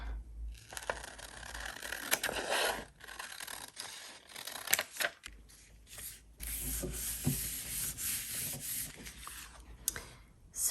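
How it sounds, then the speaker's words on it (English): Paper trimmed down to size for a junk journal, a close, dry scraping and rubbing texture with sharp little clicks and snips scattered through, brief pauses between strokes, no voices. "I just have to trim it down a little bit and then it will fit"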